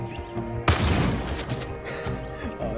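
Gunfire in the video game Far Cry 5 bursts in suddenly and loud, followed by a dense rattling volley that continues under lingering noise.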